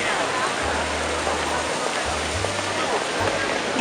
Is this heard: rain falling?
yes